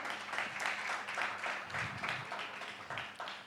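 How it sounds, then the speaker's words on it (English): An audience at a private equity and venture capital panel discussion applauds a panelist, a steady round of clapping that lasts the whole stretch. "Can we please have a round of applause for her?"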